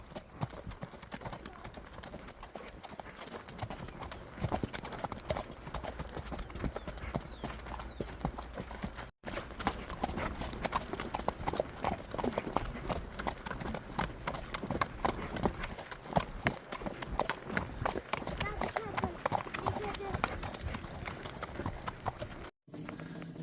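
A horse cantering uphill gives a steady, fast clip-clop of hooves throughout, moderately close, with a few faint voices in the background.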